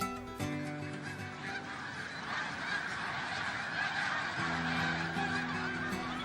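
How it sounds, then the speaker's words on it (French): A dense flock of snow geese honking continuously in Montmagny, Quebec, many overlapping calls close and far, loud and steady throughout with no talking. "Montmagny est l'hôte de milliers d'oies blanches"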